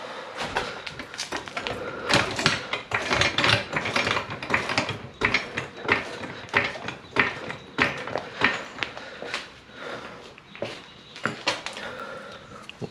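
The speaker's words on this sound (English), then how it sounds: "So we can go ahead and jack this side up." A jack lifts one side of a 2016 Jeep Wrangler JK during a 2.5-inch suspension lift install. Rapid, rhythmic metallic clanks and ratcheting strokes repeat up close, loud and uneven, with no speech.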